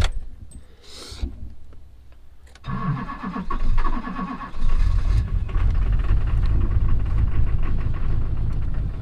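A car engine cranks briefly, catches and fires, then climbs into a loud, steady rumble at elevated idle with the throttle held down.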